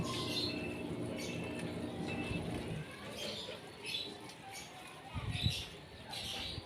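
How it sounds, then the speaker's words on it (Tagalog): Birds chirping and calling in the distance over a steady outdoor background hum, with a few faint voices. "mga huni ng ibon"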